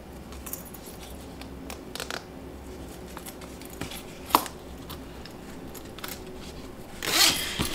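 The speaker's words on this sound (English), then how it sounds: "Okay, let's get our zipper pulls put on." Zipper pulls being fitted onto a bag zipper while sewing, heard as soft clicks and taps through a steady low hum, with a brief louder rasping zip near the end.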